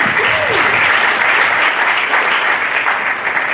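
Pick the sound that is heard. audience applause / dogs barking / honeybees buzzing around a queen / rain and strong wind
audience applause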